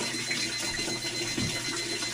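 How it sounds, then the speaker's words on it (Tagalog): An alarm rings steadily as a continuous electronic tone over a busy, noisy background, with no voices during it. "Parang may nag-alarm."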